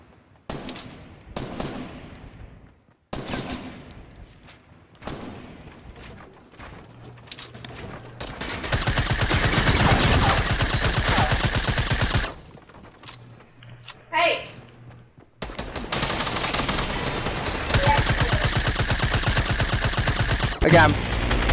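Fortnite battle royale gunfire: scattered single shots at first, then long sustained automatic bursts, loud and dense, broken by brief pauses, with in-game effects mixed in and no talk.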